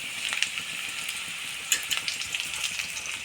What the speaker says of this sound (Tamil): நல்லா பச்சை மிளகா நல்லா ஃப்ரை ஆகிட்டோம்